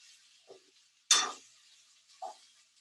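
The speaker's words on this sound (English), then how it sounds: "So you basically are, stir frying this." Beef lomo saltado stir-fried with tongs in a pan on a gas stove at medium flame, with one sharp scraping clatter of the metal among a few softer taps and a light background sizzle, close and without talk.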